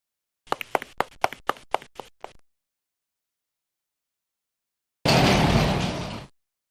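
A door opening in the video game Snatcher: a rapid run of sharp clacks followed after a silent gap by a loud sliding whoosh lasting over a second, close and alone.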